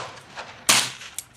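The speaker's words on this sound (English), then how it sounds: "Squib load." A squib load fired from a .38 Colt New Police revolver gives one sudden, sharp report partway through, followed by a brief decaying tail and a faint later click, heard alone without talk.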